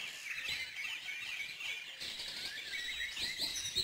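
Garden birds chirp and tweet continuously at moderate volume, many overlapping calls and short trills forming a steady bright chorus with no voices.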